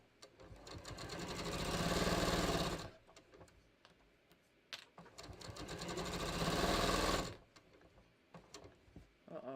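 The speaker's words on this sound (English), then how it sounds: "Alright, so we're just going to sew this." A sewing machine stitches a top in two sustained bursts of rapid mechanical whirring, each lasting about three seconds, separated by a quiet pause with faint clicks, and then a few brief taps.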